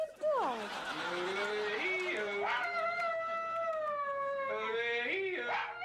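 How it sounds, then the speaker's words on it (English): A dog yodels in long, wavering pitched tones that slide between singing and howling, loud and close, with several sustained rising and falling phrases over about six seconds. "Ah, the yodel. Somewhere between singing and howling."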